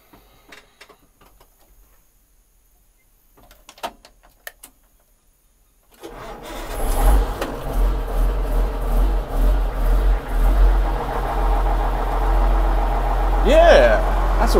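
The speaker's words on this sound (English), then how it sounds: "we need to do a cold start" Farm tractor used for disking a rice field, cold-started after six seconds of near silence, then settling into a loud, steady rumbling idle nearby, with voices heard over it.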